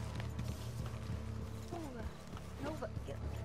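Hooves clip-clop from a horse in a Western-style multiplayer video game, faint and steady beneath a low hum and players chatting.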